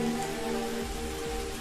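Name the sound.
rain falling on tree branch, stock footage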